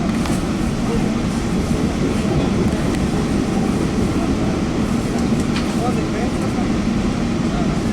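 Interior of a South Coast Rail commuter train pulled by an EMD F40 diesel locomotive, with a loud steady rumble and rail noise throughout and voices talking over it.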